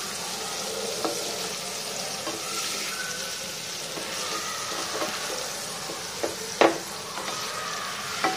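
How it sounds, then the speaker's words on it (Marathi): Paneer pieces shallow frying in a pan during preparation of paneer butter masala, giving a soft continuous sizzle with occasional light scrapes and clinks of gentle stirring, fairly quiet and close, with no talk. "हे शॅडो फ्राय करत असताना पनीरचे तुकडे नाही झाले पाहिजे याची काळजी घ्यायची."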